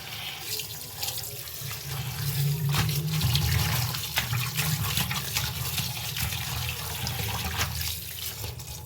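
Tap water runs steadily and loudly into a kitchen sink as trimmed coriander leaves are rinsed under it, with splashing and gurgling throughout and no voices.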